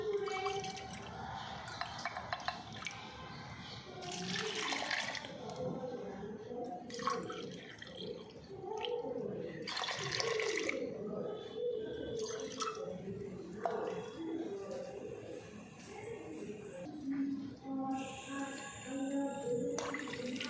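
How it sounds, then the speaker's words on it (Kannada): About three glasses of water splash and drip in uneven bursts into a pot of lentils, with clinks and gurgles between pours and some faint background sounds. "ಇವಾಗ ಇದರಿಂದ ಒಂದು 3 ಲೋಟ ಅಷ್ಟು ನೀರು ಹಾಕ್ತಾಯಿದ್ದೀನಿ"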